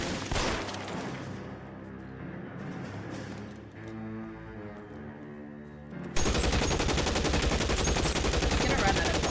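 Gunfire from an enemy shooter in L.A. Noire, sharp shots over tonal game music, then a loud sustained burst of rapid fire in the final few seconds.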